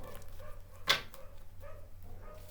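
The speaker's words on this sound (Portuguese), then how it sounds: "E agora é os cachorros, ó." One sharp dog bark rings out at night, fairly distant, amid faint background noise, followed by quieter low yips.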